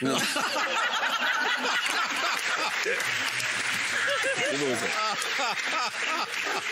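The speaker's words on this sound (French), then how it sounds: "Applaudissements pour Johnny." Studio audience applauding Johnny on a French television dating show, a dense sustained clapping crowd with scattered chuckles and laughter mixed in throughout.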